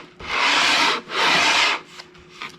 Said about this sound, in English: just lay it up there, go back and forth very lightly